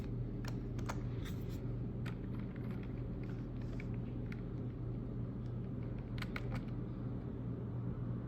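Keys tap on a computer keyboard during a Linux installation, irregular clicks and short bursts, fairly faint, over a constant low rumble.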